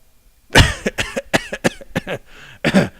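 A voice imitates an old man coughing, giving a burst of rough, hacking coughs followed by a few throaty clearing sounds, close and loud.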